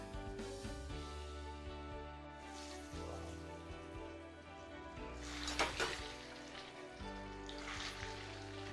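Bread bonda frying in hot oil in a kadai, a steady soft sizzle and crackle that swells briefly, faint and close, with a faint background hum and no talking.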